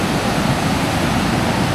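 River rapids along the Foothills Trail rush loudly and steadily, a dense unbroken roar of churning water heard up close without any talk.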